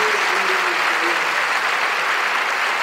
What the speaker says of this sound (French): De forts applaudissements pour notre sœur.